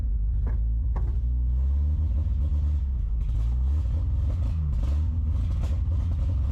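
An abandoned Paw Patrol Marshall-themed car idles after its first start, its engine making a continuous low rumble with some rougher surges, and no voices.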